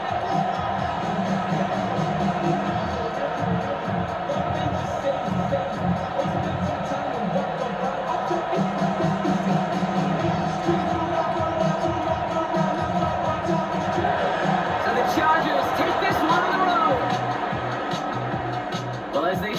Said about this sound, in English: Celebrate to the boos of the home crowd.